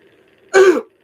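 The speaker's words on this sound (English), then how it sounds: "Bear with me because I got a messed up cough right now." A single short, raspy cough or throat-clear bursts out close up against a quiet background.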